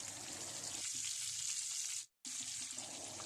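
Chapli kababs fry in a pan with a soft, steady sizzle, faint and continuous, broken by a brief moment of silence before the frying resumes.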